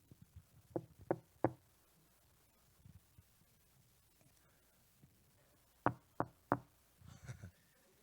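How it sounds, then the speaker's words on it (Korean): Two separate sets of three crisp knocks on a wooden door, spaced several seconds apart in an otherwise quiet room, with faint rustling between them. "그리고 우리에게 노크하십니다"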